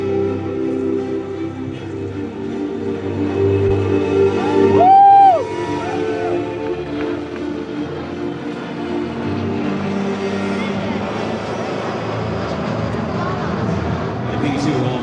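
A KC-135 tanker passes over an air show crowd at Joint Base Andrews, its steady jet-engine roar carrying across the whole stretch and swelling briefly midway as it comes closest, with a loudspeaker announcer talking over it.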